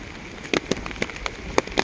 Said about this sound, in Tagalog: Ganito kahirap dito, guys, pag laging umuulan.